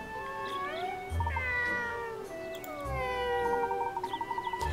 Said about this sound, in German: Katze! Katze! Ich will Katze!